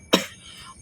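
One sharp, close cough bursts out and then fades quickly, followed by quiet room tone.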